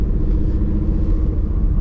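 A 2021 Ford Mustang GT running E85 with stainless Power headers and a Roush cat-back exhaust gives a steady, deep, subdued rumble at close range, without sharp revving.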